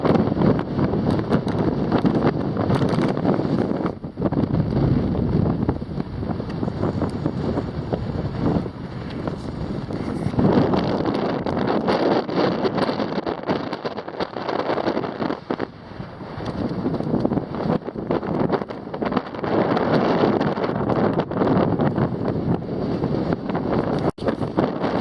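High wind buffeting across the Pico de Orizaba glacier, a loud continuous roar of gusts blasting the microphone, surging and easing over about 25 seconds with no voices.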